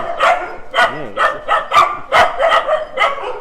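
Several dogs barking repeatedly at the Soi Dog Foundation shelter in Phuket, loud and close, with yips and a brief whimper between the barks.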